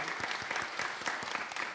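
Applause from a church congregation at a Wednesday evening service, welcoming a visiting pastor and members of a seafarers' mission; steady, moderately distant clapping throughout, with no talking.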